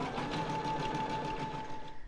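An embroidery machine stitching starting points on a label, a steady fast mechanical whirr with a constant hum, moderately quiet and close with no talk.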